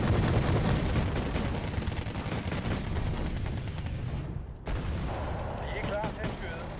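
Wargame Red Dragon battle with artillery and gunfire, dense rumbling barrages and crackling shots forming a continuous loud wash, briefly dropping before resuming, with voices heard underneath.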